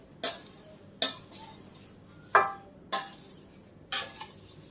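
Thin poha is stirred in a hot kadhai for crispy chivda. Five sharp, close scraping strokes come at roughly even intervals, each fading quickly into a quiet background.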